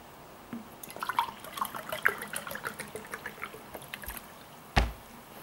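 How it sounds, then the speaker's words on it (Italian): A person drinks a glass of water at home, with a run of small wet sips, gulps and liquid trickles close by, ending in a louder clunk as the glass is likely set down. "ho deciso di bere un bicchiere d'acqua per starmene a casa."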